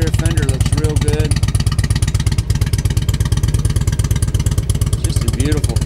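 A 2003 Harley-Davidson Road King Classic FLHRC, 100th anniversary edition, runs steadily up close with a deep, rhythmic popping V-twin exhaust pulse, loud and continuous throughout, with faint background voices.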